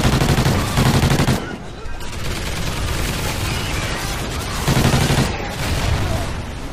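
Heavy automatic gunfire in the shooter Call of Duty Ghosts Extinction, rapid machine-gun bursts firing loud and close almost without pause, with slightly stronger volleys at the start and near the end.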